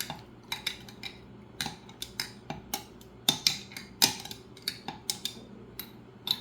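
Cough lemonade ingredients stirred in a glass with a metal spoon, a steady series of quick clinking taps against the sides, close and fairly quiet with no talking.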